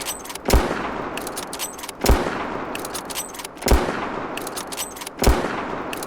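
Four heavy booming shots from a .50 cal rifle in the hunting video game Prehistoric Hunt, fired at an even pace about a second and a half apart, each sharp crack trailing into a short rumble.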